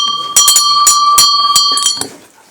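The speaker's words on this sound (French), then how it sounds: "Un petit son de cloche pour réveiller les..." A bell struck repeatedly in a garden, giving several bright ringing strikes in quick succession with a sustained metallic tone that fades out at the end.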